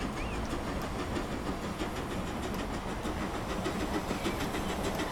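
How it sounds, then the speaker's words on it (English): Chinese narrow-gauge 750mm trains run in Transport Fever with a loud, continuous rail rumble and faint rhythmic clicking from the wheels. The sound holds steady throughout, with no one talking. "let's have a look at the narrow gauge 750mm gauge trains in Transport Fever"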